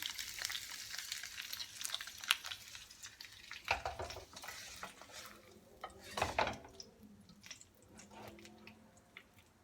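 Steady oil sizzling and crackling as pomfret fries in a pan, with a few louder spatters and a clink of a utensil, close by.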